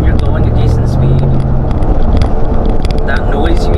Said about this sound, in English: that noise you hear is actually the tires on the floor rubbing